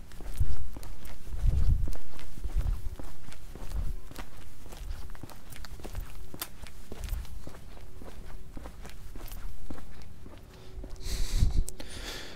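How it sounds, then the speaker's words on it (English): Steady footsteps thud downhill along a hard footpath at a brisk walking pace, fairly close, with faint outdoor ambience between steps. "you can probably hear my footsteps slamming on the footpath / sidewalk"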